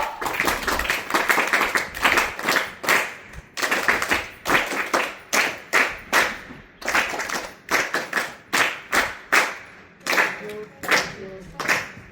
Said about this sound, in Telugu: can we give a welcome clap and then thank you clap both